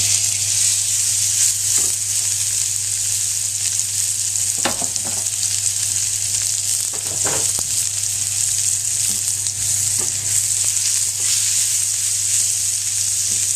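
Pork tenderloin seasoned with plenty of salt and pepper sears in oil in a pan, a loud, steady sizzle with several sharp bursts and spatters as the meat settles, plus a low constant hum underneath; no one speaks.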